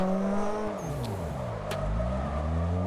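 Simulated car engine revving during drifting practice in the Assetto Corsa driving game on a Logitech G2 wheel; a steady, loud engine note rises and falls continuously, with throttle seeming to climb on its own.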